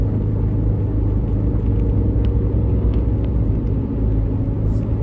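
A 2012 Suzuki SX4 AWD cruising at about 70 gives off a steady, loud low rumble and drone from its driveline, with a faint whir riding above it and no voices.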